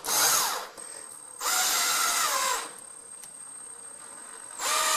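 A cordless power drill drives a screw into a pre-drilled hole to mount mini blinds, whirring in three short loud bursts with brief pauses between them, close up.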